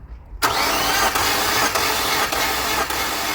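An Infiniti G25 engine cranks on the starter during a compression test, a loud continuous whirring crank starting abruptly and running steadily with rhythmic compression pulses, no talking.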